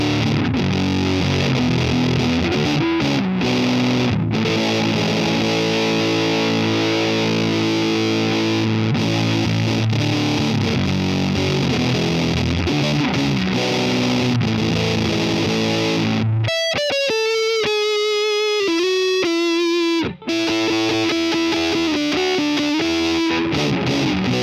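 Guitar fuzz tone through a Line 6 POD Express pedal, thick and heavily distorted chords sustaining loudly, then tight choppy palm-muted stabs with sharp gaps from the noise gate.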